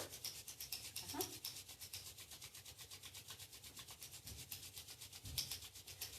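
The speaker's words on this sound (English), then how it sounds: "rub your hands and make them nice and warm" Palms rubbed briskly together to warm them during a seated chair yoga session, a steady rhythmic swishing friction repeating for several seconds at close range with no talking.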